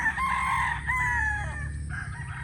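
An Asmina White gamefowl rooster with a straight comb crows loudly and close by, one long drawn-out cock-a-doodle-doo with a slight break near the end, set against a low steady background rumble.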